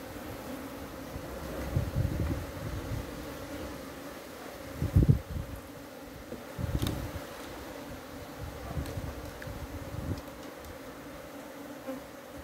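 Honeybees swarm around an opened beehive during colony management, a dense steady hum close by with swelling bursts of buzzing as insects fly past, no voices over it.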